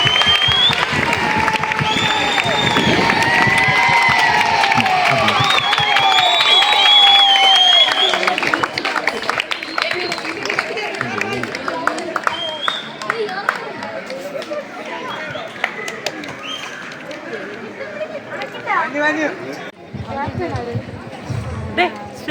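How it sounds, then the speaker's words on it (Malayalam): A school crowd at a sports day inauguration cheers and shouts loudly as captains light the torch. The roar then thins into scattered clapping and chatter. "എല്ലാവരും കൈയടിച്ച് പ്രോത്സാഹിപ്പിക്കൂ."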